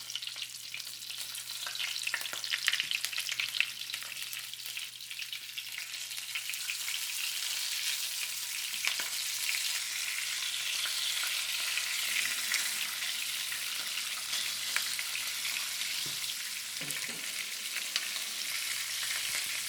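Black tiger shrimp frying in a pan, a soft, continuous high sizzle that holds steady for the whole stretch, fairly quiet and alone with a faint low hum underneath.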